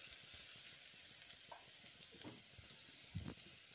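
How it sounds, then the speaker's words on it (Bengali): Ginger, green chilli and grated beetroot frying in a pan with whole-spice tempering give a faint, steady hiss and sizzle, with a few soft stirring scrapes and taps near the end. "তারপর আদা ও কাঁচা লঙ্কাটা ফোড়নের সঙ্গে বেশ কিছুক্ষণ ভেজে নিচ্ছি।"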